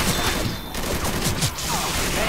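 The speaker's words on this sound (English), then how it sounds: "I just ignited some fireworks" Fireworks set off in Left 4 Dead 2, a loud, dense crackle of rapid bursts and pops that keeps going throughout, close and harsh like a fusillade.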